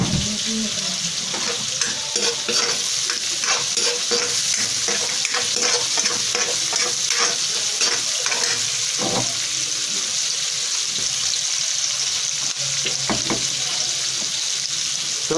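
Garlic and chili fry in a pan under constant loud sizzling, with repeated scraping and clacking of a utensil as the pieces are stirred, close and steady without speech.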